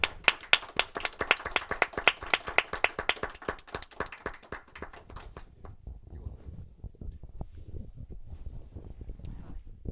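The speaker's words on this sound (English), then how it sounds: "Let's give her a round of applause." Audience applause at a comic strip championship award ceremony in Rovaniemi, dense rhythmic clapping that is loud at first and then thins into scattered, fainter claps.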